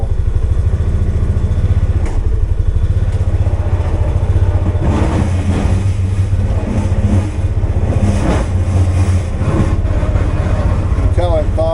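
A Polaris Ranger 570 in four-wheel-drive low range plows snow off a partly bare driveway, its engine droning steadily while the plow blade scrapes and clatters against the pavement throughout.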